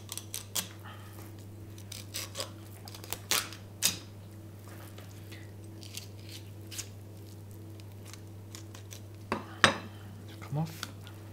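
A knife scrapes along the bones of a whole salmon during filleting, producing a series of short, dry clicks and scratches at an irregular pace, close and fairly quiet over a low steady hum.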